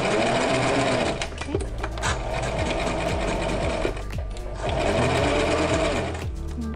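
A sewing machine back stitching the hem of pajama pants, a loud close motor whirr with rapid needle chatter that pauses and restarts, with a few brief stops between runs.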